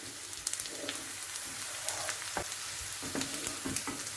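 Onion sizzles and crackles in a frying pan, a steady close hiss with small pops and a few stirring scrapes throughout.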